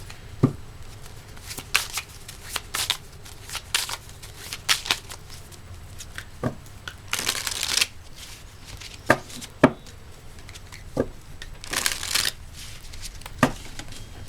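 Tarot cards are shuffled and handled up close, making irregular papery riffles, slaps and taps that come in scattered bursts over a quiet room.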